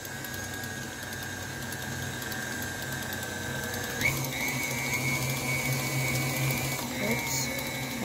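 An electric mixer whirs steadily through red velvet cake batter, its motor tone stepping up in pitch when the speed is raised, close and continuous with a voice talking over it.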